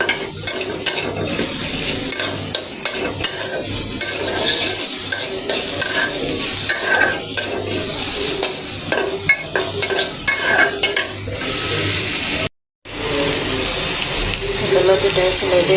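Onions and green chilies are stir-fried in a pan: steady loud sizzling with repeated scraping stirs of the spatula, nearby and continuous, with a brief drop-out near the end.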